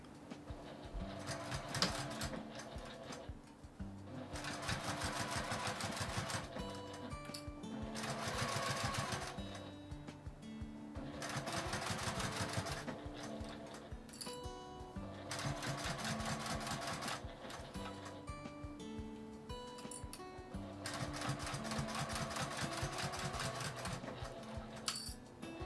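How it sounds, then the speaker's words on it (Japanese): A sewing machine stitches a doll's kimono, running in several sustained bursts of rapid, rhythmic stitching separated by short pauses, close and steady with no voices. "今回はミシンで縫います。"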